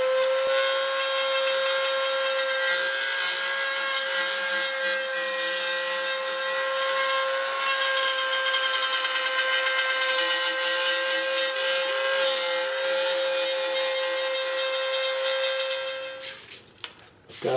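Power tool cutting a binding channel into the wooden soundboard of a 45-style dreadnought acoustic guitar, a steady, loud, close whine that runs about sixteen seconds before winding down and stopping.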